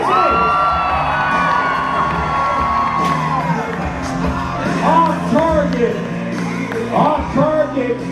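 A crowd cheers at a jousting event at the Ohio Scottish Games, with sustained whoops, shouts and children's high voices rising and falling over several seconds, close and loud.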